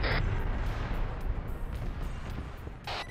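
Heavy gunfire in an ARMA 3 military operation: booming shots and rumbling blasts, moderately loud, with a couple of sharper bursts standing out at the start and near the end.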